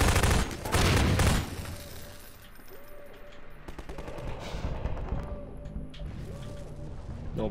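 Gunfire in Half-Life 2 during a chase by a Strider through streets near the Citadel: a loud, dense burst of rapid shots fills the first second, then fades to a lower rumble with faint tonal game sounds and scattered distant pops.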